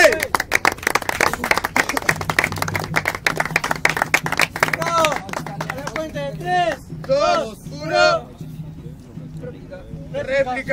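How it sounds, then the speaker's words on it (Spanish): A crowd at a Spanish-language freestyle rap battle claps in a rapid, crisp patter over a low steady tone, and excited voices and shouts rise over the clapping in the second half. "¡Aplausos!"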